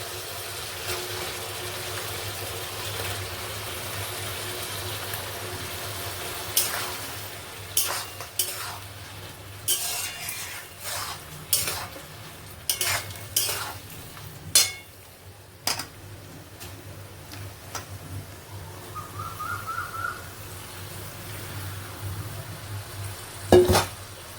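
Bottle gourd added to a hot pan, then stirred, with a low sizzle beneath repeated scraping and clinking of a utensil against metal, close and uneven.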